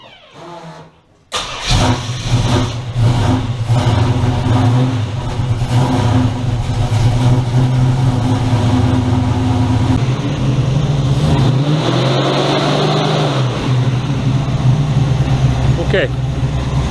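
A Chevrolet Nova engine cranks and fires after a short quiet moment, then runs loud and steady at a rough idle with some revving, close by.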